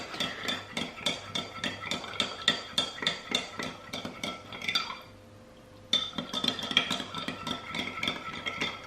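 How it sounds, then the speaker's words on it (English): Tres leches milk mixture is whisked in a bowl with quick, regular clinking strokes, nearly two per second. The strokes stop for about a second midway and then resume at the same brisk pace. "You can also use a handheld whisk as well and just whisk all the mixture if you wanted to"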